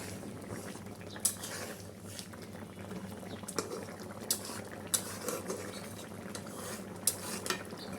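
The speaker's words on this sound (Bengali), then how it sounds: "বেটে রাখা ফোড়ানিটা দিয়ে আমি এটাকে ভালো করে মিশিয়ে নেব, যাতে ভালো করে মিশে যায়।" A ground spice paste being stirred into a simmering pot, with a low bubbling bed of cooking liquid and occasional sharp clinks of a spoon against metal, quiet and close.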